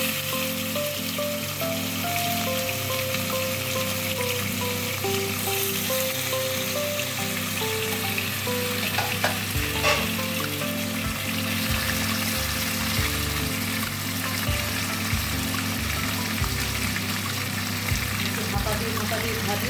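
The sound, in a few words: rohu fish frying in hot oil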